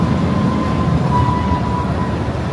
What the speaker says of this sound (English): Running an empty train as well.